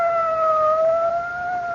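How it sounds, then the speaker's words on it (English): A police car siren wails steadily with a smooth sustained tone at moderate distance, with no other sounds. "It's a police car."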